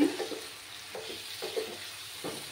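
Mutton masala being sautéed and stirred in a pan, a soft steady sizzle with several scraping stir strokes spaced through it, close and moderately quiet.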